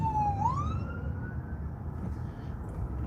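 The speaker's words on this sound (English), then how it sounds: "It's an ambulance." Ambulance siren wailing as the vehicle passes on the road, a single rising and falling tone that sweeps past and fades into a low traffic rumble, moderately distant.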